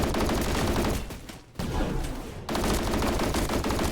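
Rapid automatic Uzi fire in a video game, dense bursts of shots that break off briefly, resume, then run on again loud and close with no talk.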